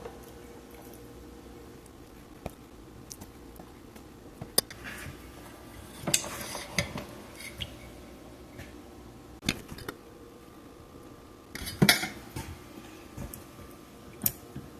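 Deviled egg halves being filled in a pan, soft wet squishing and light clicks scattered over about fifteen seconds, close and quiet with a faint background hum, a few sharper taps standing out.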